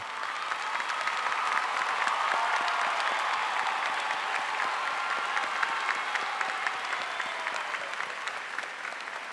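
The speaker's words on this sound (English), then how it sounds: "And we all applaud you." Applause filling an auditorium at a high school graduation ceremony, a broad, sustained patter of many hands heard from a distance, steady from start to finish.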